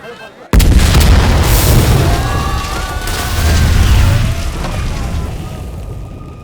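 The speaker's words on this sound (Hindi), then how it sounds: "सर, टनकपुर के कलेक्टर ऑफिस में धमाका हुआ है।" A bomb blast at a collector's office in a film scene bursts in sharply and loudly after a brief lull, then rolls into a sustained, heavy rumble with debris-like crackle that slowly fades.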